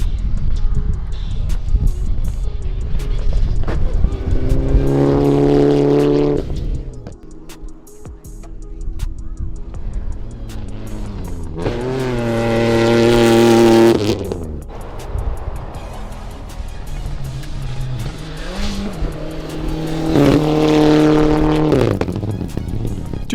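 A rally safety car revs hard and roars past over a jump, its engine climbing in loud, close bursts that fade between passes, with some talk in the background.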